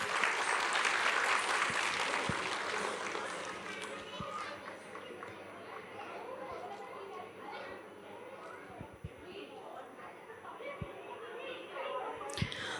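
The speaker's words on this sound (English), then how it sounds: "Please give them a big round of applause" Applause from a school annual day audience after a children's dance performance, loud at first and then tapering into general chatter and movement as an announcer talks over it.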